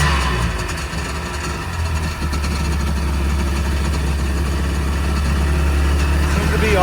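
A car engine idles steadily with a low, even rumble that holds throughout, close and fairly loud.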